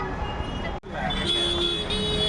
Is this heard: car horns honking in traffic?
yes